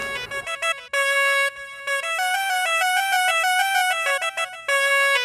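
A phone ringtone plays a bright, repeating electronic melody in short looping phrases, loud and close, with brief gaps between bursts.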